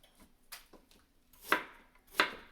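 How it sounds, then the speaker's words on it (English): A knife chops through an onion on a cutting board, giving a few sharp, separate cuts, the last two loudest and spaced about half a second apart, close and quiet otherwise. "Just cut up an onion."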